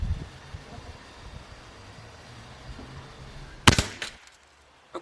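A single sharp, loud crack from a Gamo Black Maxxim IGT Mach 1 .177 24-joule air rifle fired outdoors close by. Low wind rumble comes before it and a short fading tail follows.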